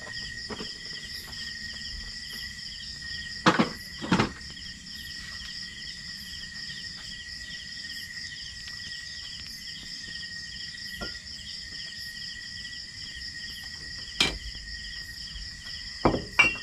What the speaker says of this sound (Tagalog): Narinig niyo yung kuliglig.